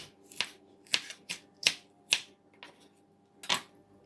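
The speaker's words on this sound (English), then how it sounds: "Now we're gonna cut the chili." Chili chopped with a knife on a cutting board, six or seven crisp, close taps spaced unevenly about half a second apart in a quiet kitchen.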